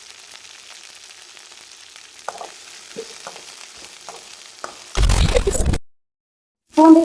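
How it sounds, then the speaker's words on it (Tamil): Small shallots sauté in a hot pan for tamarind kulambu with bladed country okra, giving a soft steady sizzle with occasional spoon scrapes, then a louder burst of frying before a brief pause. "சின்ன வெங்காயம் சேர்த்து வதக்கிங்க."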